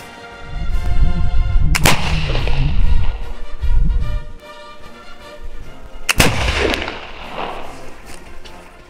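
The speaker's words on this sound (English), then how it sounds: "this sequence shows the ignition sequence of a flintlock rifle nicely" A flintlock 1800 Pattern Baker rifle loaded with a paper cartridge and primed with black powder fires twice, each a sharp loud crack with a brief rolling decay, set against steady outdoor background noise.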